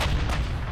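Heavy naval gunfire from the Japanese battleship Mutsu in a naval warfare game, a dense, loud booming blast filling the whole short moment with sustained rumble.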